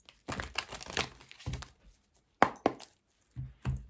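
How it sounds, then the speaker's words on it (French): A deck of tarot cards is shuffled by hand in a few short, uneven bursts of crisp riffling and slapping, close and fairly quiet, with brief pauses between them. "Allez, on mélange."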